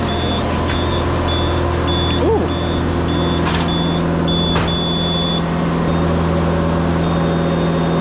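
A truck's reversing alarm beeps in a steady, evenly spaced rhythm over a constant low diesel engine rumble while backing a trailer, with a brief squeak partway through.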